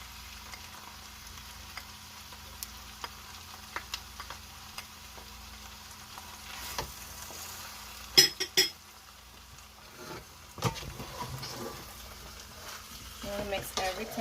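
Saltfish mixture with ketchup frying in a pan and being stirred, a quiet sizzle under scattered clinks and scrapes of a utensil against the pan, growing busier toward the end.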